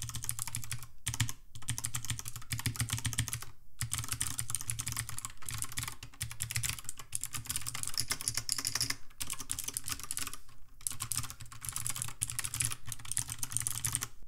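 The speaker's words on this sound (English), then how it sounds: "All right, so you guys already know we have to do a quick sound test." Rapid, continuous typing on a Lofree Dot keyboard, its keys clacking in dense, steady bursts with a few brief pauses, close and alone.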